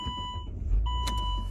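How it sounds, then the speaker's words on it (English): A 2008 Saab 9-3 Aero starts up: a thin electronic beep tone sounds, a low engine rumble swells midway, and a short brighter burst follows near the end. "And it starts up. You have that beeping, checking all the stuff"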